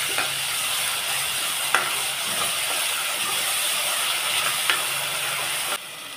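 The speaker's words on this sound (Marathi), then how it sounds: "आता हे छान ह्याच्यात परतून घेऊया आपण." Spice paste with curry leaves is sautéed in a pan, a steady hissing sizzle punctuated by a few sharp spatula scrapes, close and even, cutting slightly quieter just before the end.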